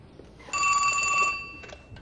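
A telephone rings in a parish office: a bright electronic ring with a steady tone for almost a second, then a shorter, fainter burst, with no talking over it.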